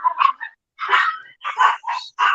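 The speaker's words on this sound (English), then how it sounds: "Oh, that dog of mine." A dog barks in a quick run of yips and barks, close and fairly loud, with short pauses between bursts.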